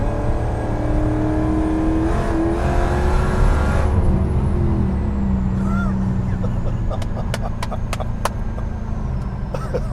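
A 1200-plus-horsepower Dodge Hellcat Hemi roars under hard acceleration, a loud, dense engine drone with a rising tone early on, heard from inside the cabin with steady road noise.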